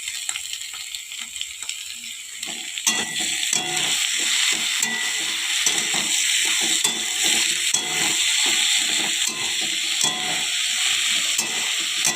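Potatoes, already fried, sizzle steadily in hot oil with black cumin seeds and dried red chillies, a dense continuous crackle that swells after a few seconds and holds close and loud, with no voices.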